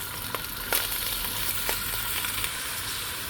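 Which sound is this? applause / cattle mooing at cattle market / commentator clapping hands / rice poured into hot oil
rice poured into hot oil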